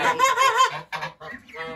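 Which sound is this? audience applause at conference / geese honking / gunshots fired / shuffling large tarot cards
geese honking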